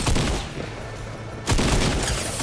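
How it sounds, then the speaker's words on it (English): Heavy booming blasts of cannon fire in Fortnite, a sustained rumbling volley followed by a second loud barrage. "Fire a cannon at you."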